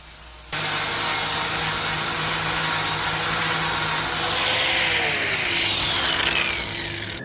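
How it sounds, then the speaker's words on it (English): An angle grinder grinds excess wood from a walnut console table, a steady loud abrasive rasp that runs continuously for several seconds, starting abruptly and stopping near the end. "After fitting the pieces, I used grinder to get rid of the excess."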